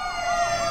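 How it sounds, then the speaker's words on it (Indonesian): A fire engine siren wails, its rising and falling tones loud and clear over a steady background of traffic noise. "ternyata itu adalah suara sirine yang berasal dari mobil pemadam kebakaran"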